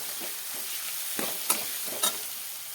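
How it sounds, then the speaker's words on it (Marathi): Green chilies fry in oil in a pan with a steady close sizzle, broken by a few scraping stirs and two sharp clinks of a utensil against the pan. "मिरची छान परतली पाहिजे"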